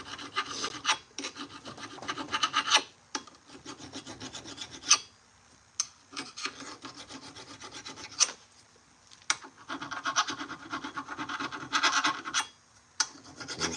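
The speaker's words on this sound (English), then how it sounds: "I'll come in with a round file, the small round file, and do it too." A small round file rasps against a steel knife blade with a carbide face during hand sharpening, steady back-and-forth strokes in bursts with short pauses, close and fairly loud, with no talking.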